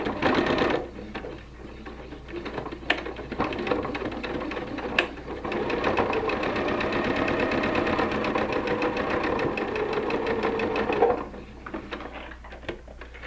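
A sewing machine stitching quilt pinwheel sections together, a steady rapid mechanical chatter running close and clear for about ten seconds, framed by brief handling clicks before and after.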